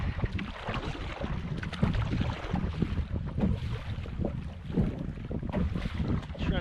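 Strong wind gusts buffet a canoe out on open water, a loud, rough, continuous roar of wind noise with water sloshing beneath, no talking heard.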